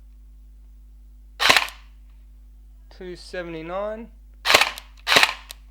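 Several sharp shots from an SLR AK-style gel blaster firing semi-auto, with loud single cracks spaced apart and a voice speaking between them over a steady low hum.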